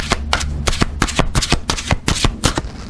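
Vintage Wisdom Oracle cards are shuffled by hand in rapid bursts, a loud, close riffling rattle repeating in quick irregular strokes with no talking.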